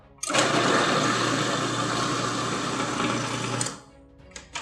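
A kitchen blender whizzes pesto ingredients, starting abruptly into a loud, close, steady whirring roar that holds for about three and a half seconds before cutting off.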